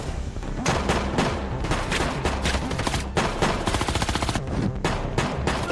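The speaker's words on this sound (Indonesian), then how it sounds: "Tembak-menembak pun pecah." Dense gunfire from a film shootout, rapid automatic bursts crackling continuously and loudly at close range, with some heavier booming shots mixed in and no speech.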